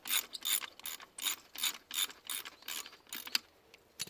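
Wrench ratcheting on bolts while a fuel filter is being replaced, a series of quick clicking bursts in a steady rhythm, close and fairly quiet with no talk.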